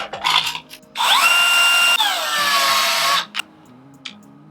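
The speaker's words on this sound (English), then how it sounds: "I'm going to drill a hole in it the size of the bolt on my lock" A power drill bores a hole through a metal lock bracket for a cooler, whining loudly and steadily for about two seconds with a pitch drop as it bites, then stopping; softer handling clicks come before and after.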